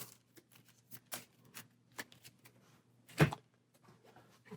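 A deck of premium equipment cards for the Zorro dice game is shuffled by hand in a quiet room, producing faint, quick riffling flicks and taps with one sharper knock.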